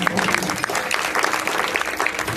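Audience at a devotional kirtan performance clapping loudly and continuously, a dense, even burst of applause with faint crowd murmur underneath.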